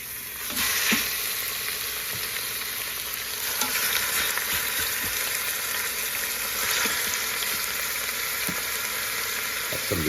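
Chunks of chuck roast searing in batches in a hot pan give a steady, close, loud sizzle and crackle, with occasional stirring clicks and no voices.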